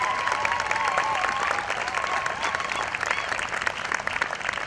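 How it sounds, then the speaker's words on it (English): An outdoor rally crowd opposing a freeway expansion claps steadily and densely all the way through, with faint scattered cheers on top and no break. "Please, another round of applause for all of our speakers."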